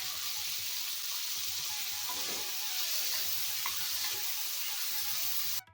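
Ginger garlic paste sizzling in hot oil in a pan for vegetable kurma: a steady, even crackling sizzle that holds at one level for several seconds, then cuts off abruptly.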